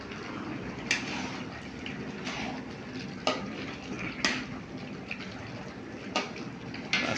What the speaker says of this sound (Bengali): এখানে এটাকে কষানো দিচ্ছি